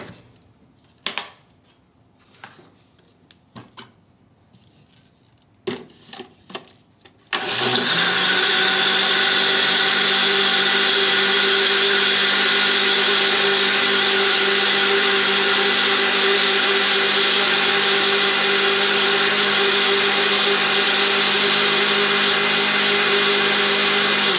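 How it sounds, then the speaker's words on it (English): A countertop blender whirs through an espresso ice cream base: a few scattered clicks and knocks, then the motor kicks in and roars steadily, loud and close, to the end. "So now we're going to blend this."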